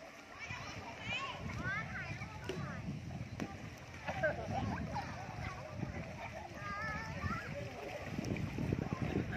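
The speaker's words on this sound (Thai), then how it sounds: "กระโดดน้ำเลย" Splashes of children jumping into a pool at a zoo water park in Khon Kaen, Thailand, mix with steady water noise and constant kids' chatter and shouts around them.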